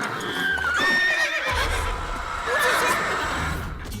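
A horse in a video game lets out a loud, drawn-out neigh, wavering and rising over a busy background of game noise, with short snorting and hoof-like sounds mixed in.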